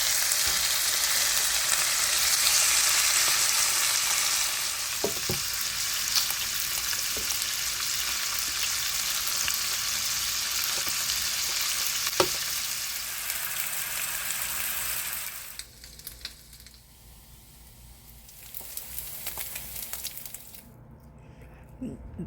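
Bacon and eggs sizzling in a frying pan, a bright continuous crackle with scattered pops and a few clinks, fading to quieter frying near the end.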